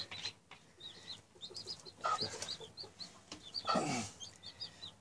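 Young chicks on a Brazilian backyard poultry farm cheep in repeated high peeps while adult chickens cluck around them, with a brief flutter of wings; steady, moderately close, no talking.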